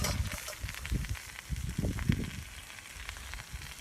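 Homemade carp bait sizzles as it cooks, a quiet crackling fry with scattered pops and soft hissing bursts rising and falling.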